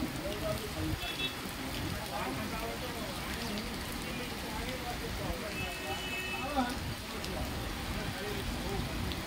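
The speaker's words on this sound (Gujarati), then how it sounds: "છેલ્લા એક કલાકથી અમદાવાદના વસ્ત્રાલ વિસ્તારમાં વરસાદ વરસી રહ્યો છે" Heavy rain pouring down in the Vastral area of Ahmedabad, a dense, steady wash of rainfall, with a voice talking over it throughout.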